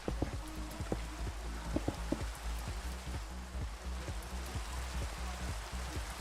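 Steady rain falls across a game world under construction, a dense, even hiss of drops with low rumbling and repeated short thuds from gameplay underneath, no voices.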